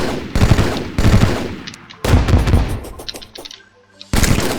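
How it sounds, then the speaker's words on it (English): Burst shotgun in the Terraria video game, using a custom modded firing sound: loud rapid bursts of gunfire in several groups, each a quick cluster of sharp blasts followed by brief mechanical ringing tails. "This thing uses the custom sound from my mod that the worker shotgun uses"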